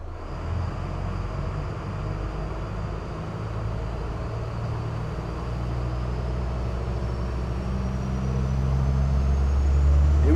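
A Targa 47 GT boat's turbocharged engines open up under acceleration, a deep steady roar that grows gradually louder and heavier over several seconds, close and continuous with water rush mixed in, no talk.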